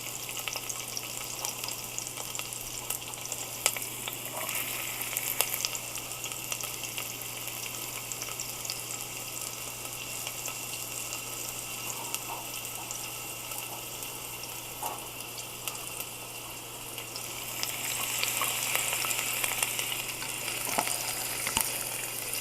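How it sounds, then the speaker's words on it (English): Diced onion sautés in fresh olive oil in a heated pot, a steady broadband sizzle running throughout with occasional faint stirring clicks and a low constant hum beneath, intensifying slightly near the end; no one speaks. "now we'll just stand here and stir that around and caramelise it and saute them in"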